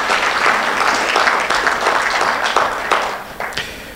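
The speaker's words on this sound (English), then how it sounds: "Maybe you should clap for him." Audience applause at a mediation summit, sustained clapping from many hands filling the room for about four seconds, steady then tapering slightly at the end.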